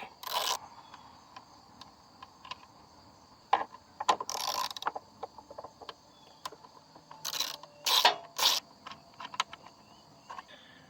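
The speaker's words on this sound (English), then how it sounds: "you'll need a 10mm socket to get the two nuts that hold the carburetor on, off." A 10mm socket ratchet clicking as it loosens the two nuts holding a lawn mower carburetor, quick bursts of close, crisp ratcheting with pauses and small metallic handling noises between.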